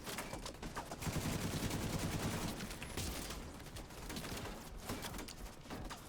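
An enemy turret in The Division 2 fires steadily and rapidly at the player, a dense unbroken rattle of shots with scattered impacts, fairly quiet and with no talking.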